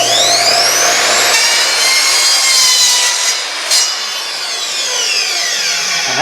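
An Evolution R255SMS sliding miter saw cuts through 1.5-inch plastic pipe with a loud, harsh, sustained whine and rasp. The cut eases slightly near the end as the blade spins down.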